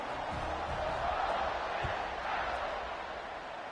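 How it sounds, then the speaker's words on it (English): A football stadium crowd at a Backs vs Ole Miss game keeps up a steady, dense roar of buzzing voices after a score, a broad wash of sound that holds at an even level throughout with a few low thumps underneath. "this crowd is buzzing after that last score"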